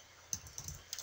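A handful of light, separate keystrokes on a computer keyboard as a website address is typed, quiet and close with short gaps between the taps.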